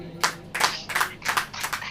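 A church congregation claps hands during a Hindi sermon, a run of several uneven, moderately loud claps in quick succession with a roomy, slightly reverberant feel and no talk over them.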